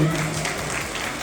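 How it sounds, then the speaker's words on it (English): A kindergarten assembly audience claps, a brief burst of dense applause from many hands, steady and moderately loud, with a faint voice briefly at the start. "Round of applause for Elijah."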